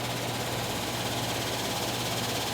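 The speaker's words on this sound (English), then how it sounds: "There goes the fan." A furnace blower fan motor runs in a continuous, loud whooshing rush, with a steady low hum beneath it and no pauses.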